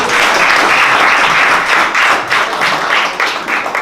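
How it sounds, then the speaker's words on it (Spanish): An audience at a poetry conference breaks into sustained applause, a dense wash of clapping filling the hall that holds loud for several seconds before tapering slightly. "Pues un aplaudimiento para todos."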